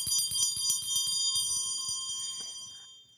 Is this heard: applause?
no